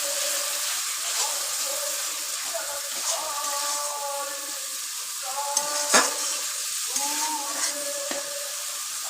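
Ginger sizzles and fries with onions in a pan under continuous stirring, a steady close hiss with occasional scrapes and clinks, while a voice talks faintly in the background.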